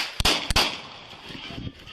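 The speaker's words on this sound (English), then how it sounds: "Shot fired!" Two sharp gunshots in quick succession, loud and close, recorded on a police body camera during an officer-involved shooting in Michigan, followed by muffled movement and noise.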